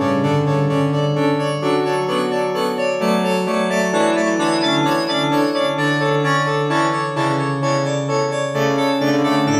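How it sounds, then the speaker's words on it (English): A basic synthesizer sawtooth wave plays a steady run of bright, buzzy sustained notes with rich overtones, loud and continuous with no talk. "here's just a basic saw wave thingy."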